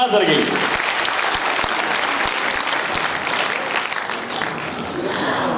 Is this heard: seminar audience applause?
yes